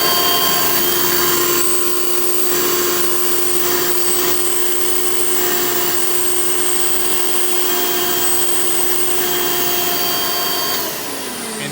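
A Hoover Elite 700 upright vacuum cleaner runs steadily with a loud, high-pitched whine and airy roar, close by, before cutting off at the end.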